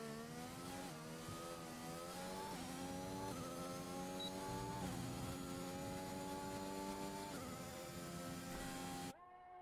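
An Aston Martin Formula 1 car in the racing game F1 22 at Bahrain, its engine screaming loud and continuous as it climbs through the revs, with several quick upshifts that drop the pitch before it rises again.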